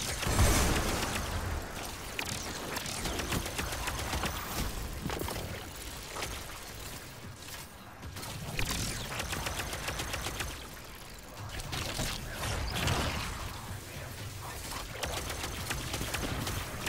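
Hip-fired shots from a gun in Destiny 2: Lightfall, steady dense bursts of game weapon fire with effects running almost continuously for the whole stretch, with short lulls between volleys.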